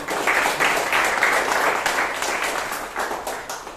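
A room full of people at a Toastmasters meeting in Bangalore applauds, dense clapping that stays strong before slowly tapering off near the end.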